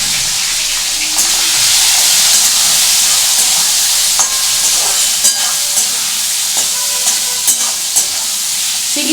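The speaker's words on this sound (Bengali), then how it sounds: "চিংড়ি মাছগুলো আমি এর মধ্যে দিয়ে দেবো।" Prawns hit a pan of hot oil with reddened cumin seeds for a Bengali-style aloo potol chingri curry, giving a loud, steady close-up sizzle and hiss with occasional stirring clicks, and no voices.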